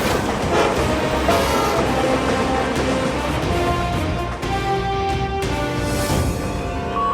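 A train rumbles steadily along the rails, loud and continuous, with a dense wash of mechanical noise and some ringing metallic tones.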